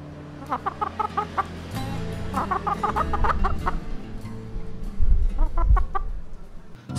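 Chickens cluck in short, rapid bursts of clipped calls, with pauses between them and a few low thumps and rustles close by.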